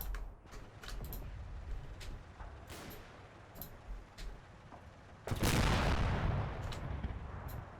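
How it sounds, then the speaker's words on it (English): Incoming mortar fire in the World War II Normandy combat video game Combat Mission, a series of scattered distant thumps and cracks followed by one louder, sustained rumbling impact near the end. "Maybe it's mortars coming in, actually, to be fair."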